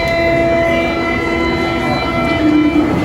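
A Lille metro train sounds loudly and continuously at Pont-de-Bois station, a steady rumble with bright sustained tones filling the whole stretch, no voices present.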